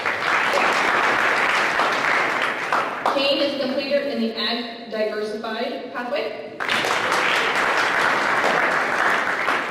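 Applause from an audience at a high school scholarly awards ceremony, a steady broadband clapping that fills most of the clip, briefly giving way to an announcer's amplified voice in the middle.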